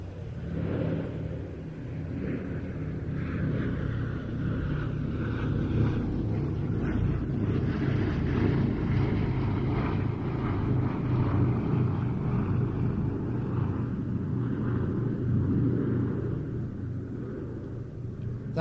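An Avro Lancaster bomber's propeller engines drone at the Old Buckenham Airshow 2023, a steady, deep, continuous rumble with some wind buffeting and no break throughout.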